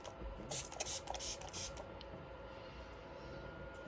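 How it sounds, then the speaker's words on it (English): A few quick hissing sprays burst close by in the first couple of seconds, followed by quiet room tone. "I do like to spray down my face"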